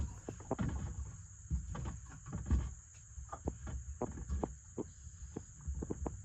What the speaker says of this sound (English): When they croak, that's a male trout.